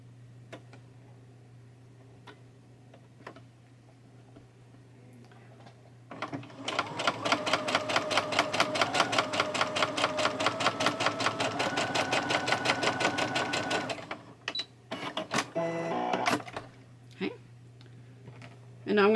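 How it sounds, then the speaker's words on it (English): A sewing machine runs a steady rapid stitch for several seconds, sewing a heart quilt block straight from corner to corner, close and loud, with quiet handling of fabric before and after. "I'm just going to sew straight down,"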